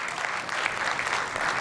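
Audience at an Apple WWDC keynote cheering and applauding in a large hall, a dense continuous roar of clapping and shouts that holds steady throughout.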